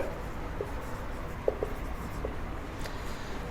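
Pen writing out a Class 9 geometry solution on paper or board, soft scratchy strokes with a few brief taps, quiet and close with no talking.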